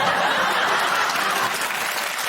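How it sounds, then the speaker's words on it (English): Studio audience applause on a TV quiz show, a dense steady wash of clapping that fills the whole stretch at even loudness, with faint chuckles mixed in. "Round of applause."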